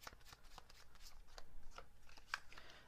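Tarot cards are shuffled and drawn for a Pisces reading, giving soft, faint papery flicks and slides in an uneven run, with one sharper snap near the end.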